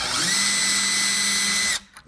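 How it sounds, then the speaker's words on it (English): A power drill fitted with a larger bit whirs steadily while drilling out a screw in a wooden interior shutter, a loud close whine that stops abruptly near the end. "So to do that, we're gonna use a larger drill bit."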